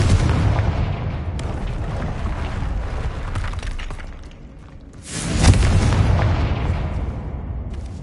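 A blasting fire spell called Confringo sets off repeated booming explosions in the Hogwarts Legacy video game, with one rumbling blast swelling louder than the others amid continuous crackling combat noise.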